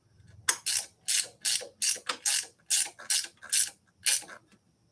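A ratchet wrench tightens a bolt while a Himiway Big Dog e-bike is assembled: about nine crisp, evenly spaced clicking strokes, close and clear, with no talking.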